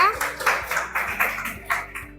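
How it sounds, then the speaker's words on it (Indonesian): A small classroom of students clapping for a student group, a patter of uneven claps with lively children's voices mixed in, fairly close. "Tepuk tangan untuk kelompok 1 ya."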